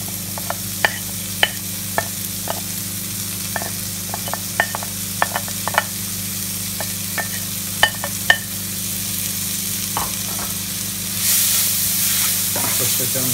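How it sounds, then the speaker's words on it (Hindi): Finely chopped onion frying in a pan over low to medium flame while making prawn masala, a steady sizzle broken by frequent short scrapes and clicks of stirring, close and clear with no talk. "और उसको हम 3-4 मिनट तक फ्राई करेंगे ऐसे, लो टू मीडियम फ्लेम पे।"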